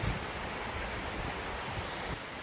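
Steady, broad rushing of water from a small forest waterfall at a cave temple in Saraburi, constant and fairly close, with no voices.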